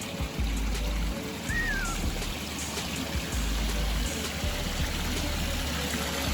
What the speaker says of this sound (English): and the water flows.